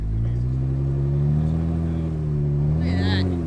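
Four-wheel drive vehicle stuck in snow, its engine droning low and steady with rising and falling harmonic revs, close and fairly loud, with a brief higher whine near the end.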